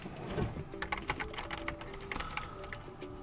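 Rapid, uneven keystrokes clatter on a computer keyboard while a macro is recorded for a Logitech G502 X Plus mouse, close and moderately loud, with no speech.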